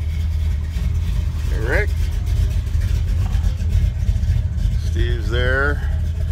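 Classic cars such as Chevelles and Camaros at a Huntington Beach donut-shop car meet, engines idling in a steady low rumble close by while people chat over it.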